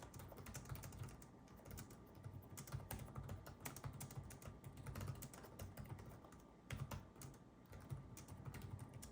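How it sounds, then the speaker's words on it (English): Someone types steadily on the short chiclet keys of an Acer Swift 3 laptop keyboard, giving soft, rapid, fairly quiet clicks at close range with no voices. "Let's do a little typing test here though."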